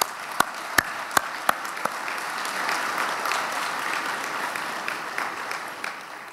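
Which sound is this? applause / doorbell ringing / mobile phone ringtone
applause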